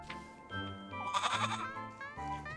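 A goat on a hillside gives several close, loud wavering bleats in succession, the calls rising and breaking with brief pauses between them.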